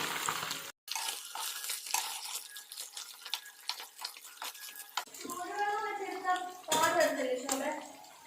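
Small sardines frying in sunflower oil in a pan as they are turned over, a steady close sizzle with stirring and scraping clatter, a brief gap, then a voice talking over the frying near the end.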